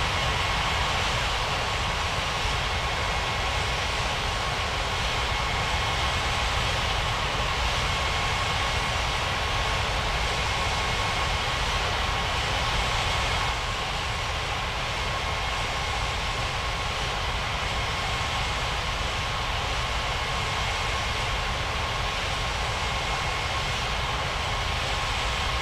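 A China Eastern airliner approaching to land on runway 35 left in a flight simulator game, with a steady, unbroken engine and airflow roar at even loudness throughout and no voices.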